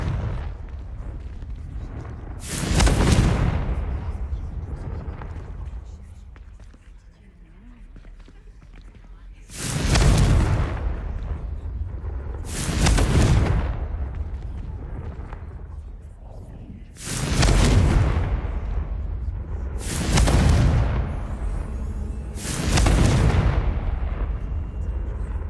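Confringo curse explosions in Hogwarts Legacy, played on Xbox Series X: six heavy, booming blasts come in uneven pairs and clusters, each a loud burst that quickly fades into a low rumbling background.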